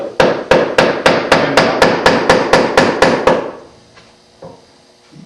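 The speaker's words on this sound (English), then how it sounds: "Now I'm going to lay the chisel in this line that I scribed." A chisel set in a scribed line is struck by a hammer while hand-cutting dovetails in wood: about a dozen sharp, evenly spaced knocks in quick succession, close and loud, then a few quieter taps and handling sounds.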